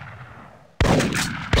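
A sharp gunshot blasts out in the Big Buck Hunter Pro hunting arcade game during a bison hunt, loud and close after a quiet lead-in, with its boom ringing on and a second shot cracking right at the end.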